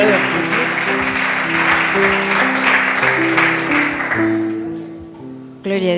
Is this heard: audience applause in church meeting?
yes